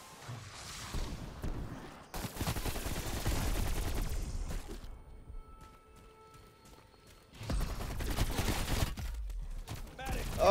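A wonder weapon firing in a video game, with long bursts of rapid crackling shots, a quieter lull with faint tones, then another loud sustained volley.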